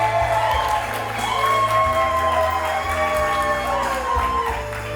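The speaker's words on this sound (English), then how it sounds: "I want a big round of applause for your little girls, your flower girls, Laura and Sophia" Wedding guests cheering and clapping for the little flower girls at a reception in Boca Raton, a sustained crowd roar with whoops over loud background music.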